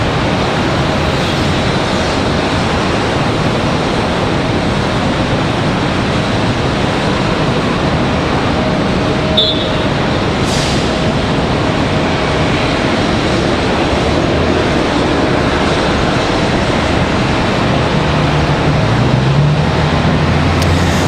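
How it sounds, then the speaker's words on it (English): American Airlines flight 748 bound for Madrid departing Charlotte Douglas International Airport, a steady broad roar of jet engines at takeoff power, sustained and fairly distant, with no talking. "Again, this one, American Airlines 748 off to Madrid"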